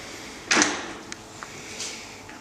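A door swings open into the underground tunnel of a college chapel, giving one firm creak and thud up close, followed by a few faint clicks and a soft scrape in a quiet room.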